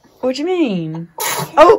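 A person sneezes indoors at home during casual chatter, a single sharp burst set between stretches of nearby talk.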